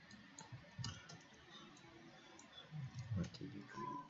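Computer mouse clicks while modelling in 3ds Max, a few quiet scattered clicks over soft room noise, some closer together, with a faint voice in the background.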